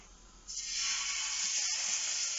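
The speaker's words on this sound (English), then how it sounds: "Okay, so I'm going to seal the meat off now." Steak hitting a hot pan and searing, a sudden loud broadband sizzle that starts after a quiet moment and holds steady and hissing, up close, with no talking.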